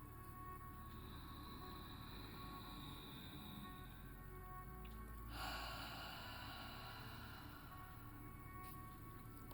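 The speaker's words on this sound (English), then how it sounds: "let's take a nice, big, deep breath" A single long, slow deep breath is drawn in and released, soft and breathy over a quiet, hissing background during a calm relaxation session, with no other sounds.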